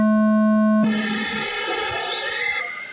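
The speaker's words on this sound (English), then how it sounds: "Sound of the tone." A loud steady electronic start tone sounds for the opening second at an oval RC race, then a rising chirp sweep and a busy mix of buzzing engines continue beneath it.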